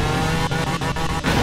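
A video-game car in a vehicle-sale simulator revs hard and roars up a ramp, its engine loud and continuous, with brief dips and tire noise as it launches.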